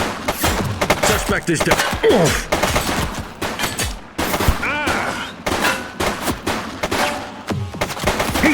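Gunfire in The Precinct, a police action game: dense bursts of shots and rapid volleys crackle throughout, loud and close, with a voice speaking briefly over the shooting.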